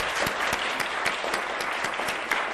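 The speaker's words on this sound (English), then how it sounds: "one more round of applause for our 2013 award recipients" Audience at a Hispanic Heritage Month event applauds the 2013 award recipients, a sustained, even burst of many hands clapping at close to moderate distance with no talk over it.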